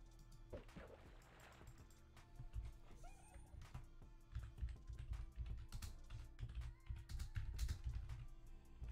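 Computer keyboard typing runs as a quick, irregular patter of soft clicks through most of the stretch, quiet and close, over low game ambience.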